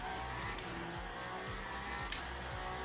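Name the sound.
race car oversteering in video game Le Mans Ultimate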